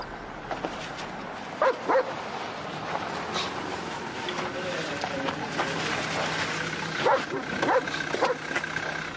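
A dog barks a few times in short separated bursts, somewhat distant, amid a busy background of continuous noise and people speaking.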